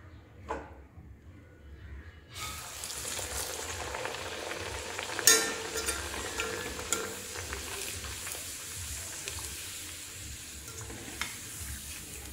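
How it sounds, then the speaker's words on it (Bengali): Aloo puri, potato-filled puris, deep-frying one at a time in hot oil in a kadai: a quiet start, then a sudden steady bubbling sizzle once the puri goes in, with faint clicks and clatter, close and fairly soft, no talking. "আলু পুরিগুলো আমি সবগুলো বানিয়ে নিয়েছি, সেগুলো একটা একটা করে এখন ভেজে নেব।"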